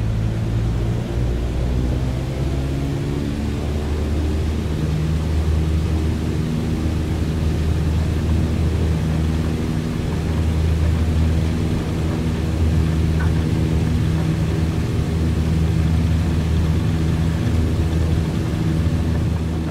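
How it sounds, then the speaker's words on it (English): A Cessna 152 light airplane's engine drones steadily at high power during takeoff on a long runway, a continuous low, buzzing hum heard from inside the cabin. "We're clear for takeoff on 1-3, and here we go."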